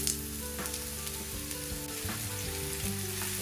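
Chopped onions frying in hot oil, a steady close sizzle with soft crackles and an occasional stirring scrape, heard alone without any voices.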